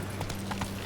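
A horse gallops in The Witcher 3 video game, a quick, muffled run of hoofbeats under low ambient game sound, lasting under a second.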